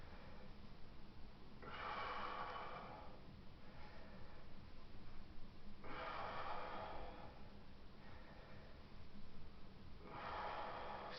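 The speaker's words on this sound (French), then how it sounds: "vous inspirez, vous soufflez" Slow, paced breaths in and out during a bent-over dumbbell row, each long airy exhale swelling and fading in a steady rhythm, quiet and close with no talking.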